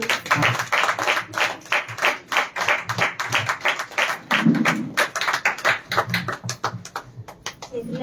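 A church congregation claps together in a steady, rhythmic beat of many hands, loud and close, with a brief murmur of voices partway through.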